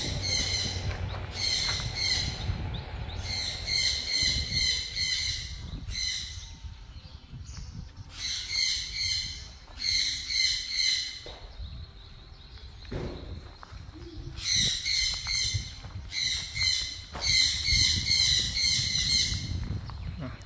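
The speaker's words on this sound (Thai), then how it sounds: "จะมีเสียงนกหน่อยนะครับ" Repeated bursts of shrill, high-pitched bird calls ring out in clusters, alternating with quieter stretches over a low background rumble.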